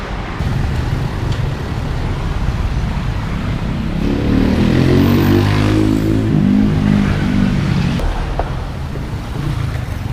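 A motorbike taxi rides past on a Thai street, its engine note swelling as it draws near and fading away, loud and close over steady road noise.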